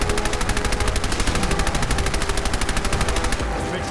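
Rapid automatic gunfire of explosive bullets aimed at a Deathclaw Matriarch in Fallout 4, a loud, sustained, evenly spaced burst of shots that stops abruptly near the end.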